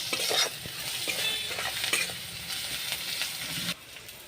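Taro stolons and prawns with turmeric, salt and sugar sizzle loudly in a pan, stirred with a steady scraping of a spatula and occasional metal clinks, close up and continuous.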